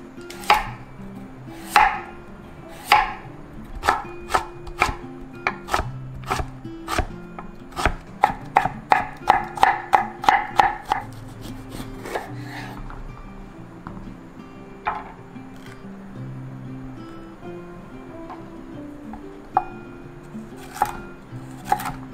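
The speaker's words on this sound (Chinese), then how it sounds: "甜椒切成丝状。" A knife chops carrot, cucumber and bell pepper into strips on a cutting board: a run of sharp, close, rhythmic taps, speeding into quick bursts in the middle and then thinning out to a few scattered strokes.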